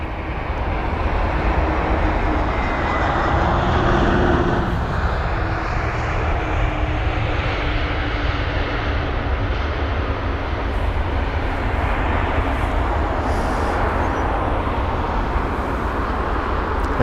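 A roaring jet airliner arriving from Amsterdam, a 21-year-old aircraft, lands at London Heathrow, its loud, broad engine rumble sustained and steady throughout with a slowly shifting pitch; no voices.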